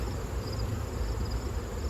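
Honey bees from an autumn hive being readied for winter produce a dense, steady low hum with broad buzzing texture that holds continuously and fairly close throughout, with no talk.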